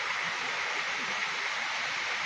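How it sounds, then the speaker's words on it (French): Steady broadband rush of a waterfall in the Ain, France, seen in autumn with lower flow than expected, a continuous even roar with no breaks or talk. "c'est la toute première cascade que j'avais visitée, que Enrique m'a fait connaître."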